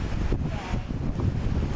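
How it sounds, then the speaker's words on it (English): Wind rushes across the microphone outdoors among moving trees, a steady low buffeting roar with soft gusty swells and no voices. "It's windy"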